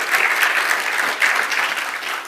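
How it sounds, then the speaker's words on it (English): Keynote audience giving presenters a big round of applause, a dense, sustained clapping wash that swells slightly midway and stays strong throughout. "let's give them a big round of applause for coming up here and do that"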